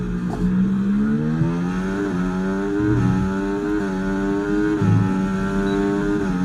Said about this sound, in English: The sound of the engine sounds a bit more... I don't know how to describe.